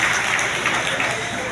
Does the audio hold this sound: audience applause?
yes